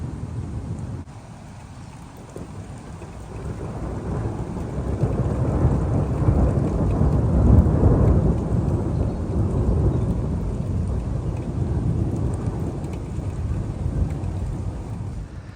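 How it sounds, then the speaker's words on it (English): Deep thunder rolls on and on, swelling into a heavier rumble midway and then easing, over a steady hiss of falling rain. "Can you hear the thunder?"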